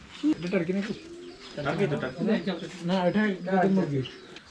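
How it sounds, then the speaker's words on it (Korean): Pigeons coo repeatedly in a series of soft, throaty warbling calls, close by and fairly loud, with a busy outdoor setting faintly behind them. "닭은 별로 없는데 비둘기를 왜 이렇게 많아?"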